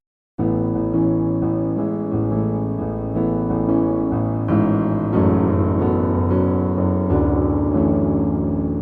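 A piano plays a pop song, a gentle melody over sustained chords, starting abruptly and continuing steadily without any voices.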